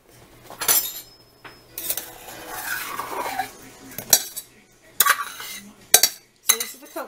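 Coconut oil being scooped into a pan to make a cayenne salve: a metal spoon scrapes and clinks against the pan in a series of sharp, close knocks and scrapes, with no talking.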